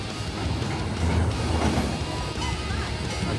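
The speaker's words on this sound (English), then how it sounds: "A cute little train going around the park here." Small amusement park train rolling around the park, a low rumbling clatter of wheels at moderate distance amid outdoor crowd ambience.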